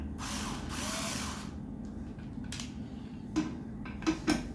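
Screws on an IKEA Markus office chair are loosened, quiet tool whirring and scraping up close followed by a few sharp metallic clicks near the end.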